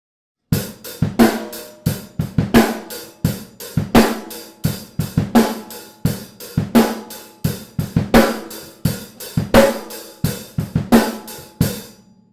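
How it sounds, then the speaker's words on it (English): A steady drum kit groove: kick and snare alternating under a constant hi-hat pulse, crisp and close, repeating evenly. "I'm just going to start with a simple rock beat"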